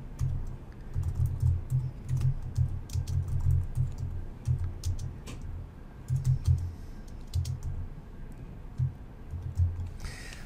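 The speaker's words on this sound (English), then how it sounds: "And I'll type this in, then I'll explain it." Code is typed on a computer keyboard in quick bursts of close, crisp key clatter, pausing briefly between runs, with no talking over it.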